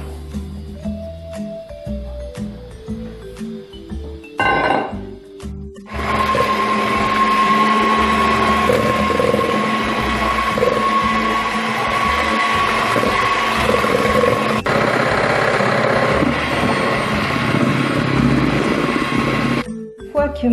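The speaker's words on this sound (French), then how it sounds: "j'ai séparé les blancs d'œufs et les jaunes d'œufs et je vais monter les blancs en neige" An electric mixer whips egg whites with sugar for a cake. It hums loudly and steadily for about fourteen seconds after a few brief clicks and start-up sounds, then cuts off.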